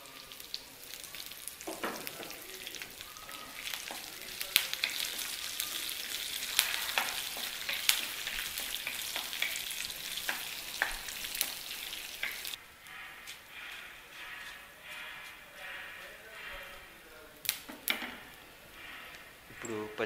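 Curry leaves dropped into hot oil for wheat rava upma crackle and sizzle with sharp pops and scraping stirs, a steady frying hiss that eases in the second half, with speech present.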